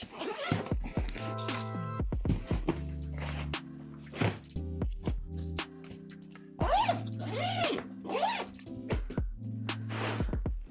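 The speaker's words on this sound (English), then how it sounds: "It should be easy to zip up if I want to." A Samsonite Omni PC medium 24-inch hardside checked suitcase is zipped shut, heard as a long run of quick, scratchy zipper strokes with short pauses and a few clicks and knocks from handling, close up in a quiet room.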